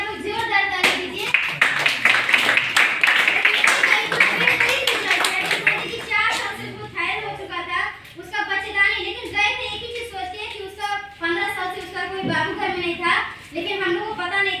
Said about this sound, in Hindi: सिर्फ एक नोनी के लिए आप लोग जोरदार ताली दीजिए।